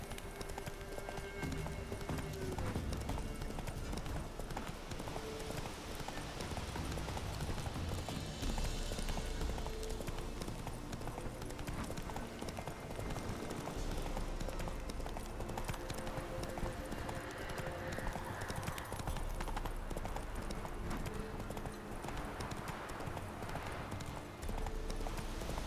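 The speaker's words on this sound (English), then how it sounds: "Not so fast, Roach." Hooves clip-clop at a steady gallop from a horse in The Witcher 3, the rhythm running the whole way through over a continuous game backdrop of ambient sound and music.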